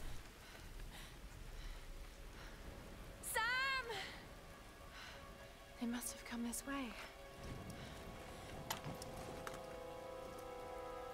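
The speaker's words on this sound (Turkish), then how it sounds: "yağmur yağıyor şimdi" Steady soft rainfall in the Tomb Raider video game, a continuous hiss of drops on surfaces, with tonal game sound effects and someone speaking over it.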